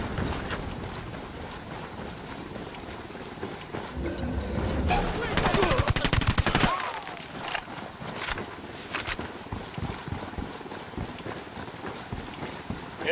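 Sustained gunfire in the video game Ghost Recon Wildlands: a dense, steady fusillade of rapid shots that peaks in a heavier volley midway, then carries on as scattered, overlapping shots.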